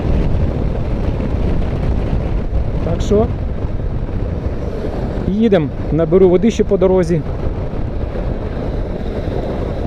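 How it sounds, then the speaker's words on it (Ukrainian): Steady wind buffets the microphone outdoors on a warm, windy day by a roadside, a continuous rushing noise beneath a man's occasional speech. "Доволі сьогодні вітряно, вітер, але тепло."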